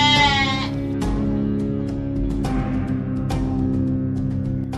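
A small lamb bleats loudly and close as a sound effect in a narrated children's story, a wavering cry followed by sustained tonal bleating, with no voices.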